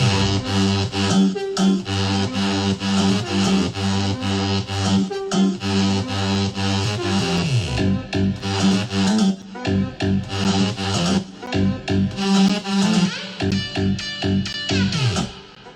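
A loud electronic dance track pounds along with dense, distorted synths and a driving pulse, building and shifting midway; no voices.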